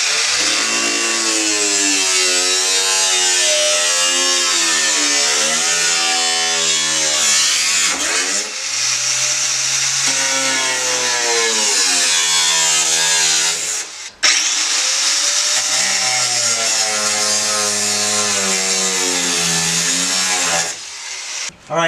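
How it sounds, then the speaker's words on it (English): A circular saw bites through stiff steel in long, loud, continuous cutting passes with a harsh rising and falling whine, pausing briefly twice between cuts, close up and with no talking. "I'm gonna still need to cut with the circular saw to kind of have room for the sawzall"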